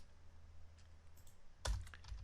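Code is typed on a computer keyboard as a short burst of close, crisp key clicks following a quiet pause, with no talking.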